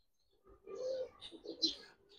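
A Giribaz pigeon coos softly, a brief, low, throaty burble lasting about a second, faint and close with quiet background.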